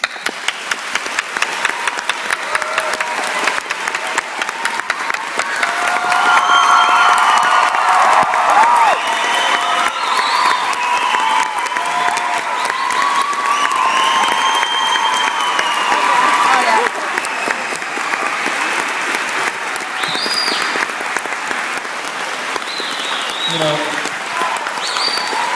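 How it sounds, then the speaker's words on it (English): Sustained applause from an audience at a public book event, dense clapping with some cheering that swells and then tapers off, a voice speaking over it near the end. "let's just give them both a warm round of applause"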